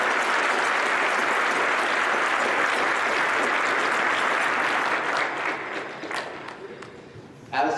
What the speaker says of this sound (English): Please join me again in a round of applause for these cadets.